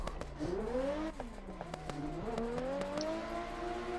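In Assetto Corsa, a BMW E36 race car engine revs up and down in rising and falling whines, punctuated by sharp popping cracks, with a second engine droning underneath.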